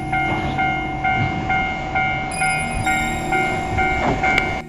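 A train arrives with rhythmic, regularly spaced wheel clatter, loud and close, and faint tonal whine above it, with no talking.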